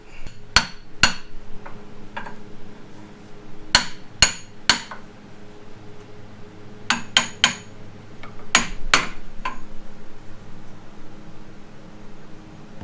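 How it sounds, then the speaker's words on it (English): Heavy blows from a big hammer while fitting an LS engine radiator, ringing metallic strikes in clustered bursts of two to four, loud and close, separated by quieter pauses with a faint background hum. "Always get the biggest hammer possible"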